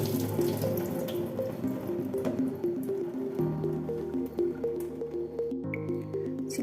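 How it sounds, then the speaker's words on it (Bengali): Cold water poured from above over cooked pasta in a colander: a steady, continuous splashing stream that changes slightly partway through, heard alone without speech. "এই সময় একটু ঠান্ডা জল উপর থেকে দিয়ে দেব, তাহলে পাস্তাটা গায়ে গায়ে লেগে যাবে না।"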